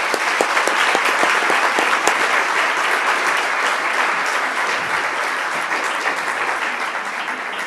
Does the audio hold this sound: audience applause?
yes